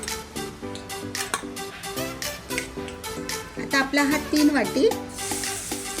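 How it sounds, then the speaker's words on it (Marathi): Grated carrot sautés in a kadhai with a soft, steady sizzle and stirring, partly masked by loud background music while someone talks over it. "किस आपण परतून घेऊया."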